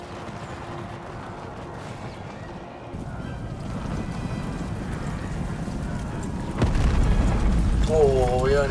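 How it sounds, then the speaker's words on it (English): Cannon fire from a naval battle in the strategy game Empire: Total War, with deep booming blasts and rumbling impacts over ambient battle noise, a heavier thump near the end. "Oh, we only just missed with the cannon."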